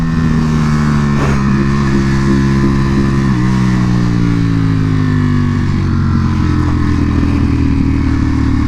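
A Ducati Panigale V4 R motorcycle roars loudly at close range during an Aprilia track day, its engine note holding a sustained high drone with steady pitch shifts as it accelerates.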